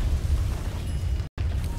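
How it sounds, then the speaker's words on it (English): Diabolic Edict explosions hit towers in Dota 2, a dense low rumble of repeated blasts broken by a brief cut to silence, with no speech heard. "level 25 with the Diabolic Edict Explosions, cleaning up these towers very quickly"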